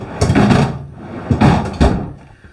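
Insignia French door style refrigerator doors in an RV toy hauler, three distinct opening and closing thumps spaced about a second apart, close and fairly loud with no talk over them.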